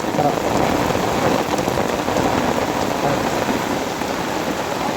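Steady rain falls outdoors during monsoon-season fishing with a current net, a dense continuous patter close by throughout, with no talk heard.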